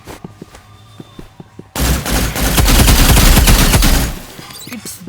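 Permafrost, a freeze-ray-style weapon in the Roblox game Rivals, lets off a dense burst of rapid firing that lasts over two seconds, loud and close, following a stretch of quieter ticking game sounds.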